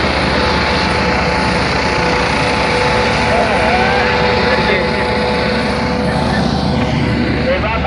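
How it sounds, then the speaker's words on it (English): Helicopter delivering a pilot onto a ship at sea, its engine and rotor roar loud, close and continuous throughout, with people talking underneath. "Sa gitna ang chopper."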